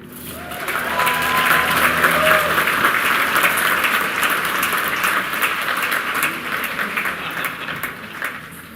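Steady, loud audience applause filling a Drew University commencement ceremony for the Class of 2023, dense clapping from a large crowd that holds for several seconds with no speech over it.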